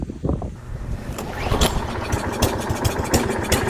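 A lawn mower engine starts up during spring maintenance, sputtering into a steady running drone that builds after about a second and a half and continues close by with no talking.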